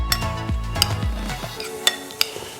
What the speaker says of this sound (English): Now just give that a mix, let all those flavors get to know each other.